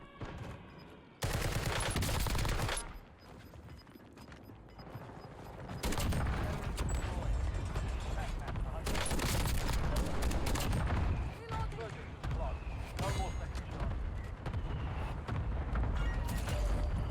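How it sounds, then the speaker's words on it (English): KB Broadside shotgun fire in Warzone on Rebirth Island, loud and dense, with booming blasts and a continuous roar of battle and game sound running through most of the stretch. "we downed the enemy in 3 shots with the KB Broadside super secret"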